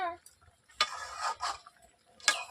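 Papaya and dal are stirred in a pot with a few scraping, clattering strokes of a spoon against the metal, separated by short pauses.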